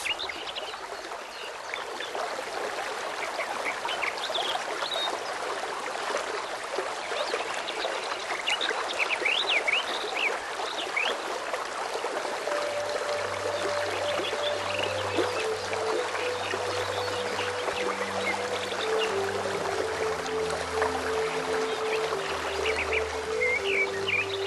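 A river flows steadily with a constant watery rush and trickle, and birds chirp faintly throughout; later a low droning hum joins underneath.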